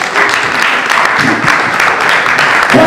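A church congregation applauds in a steady, dense wash of clapping that fills the room, loud and continuous throughout.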